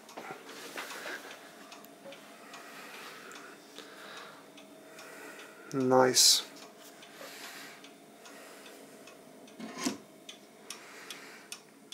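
Steady ticking from an antique intarsia clock, faint and close, with a brief louder knock and one spoken word partway through.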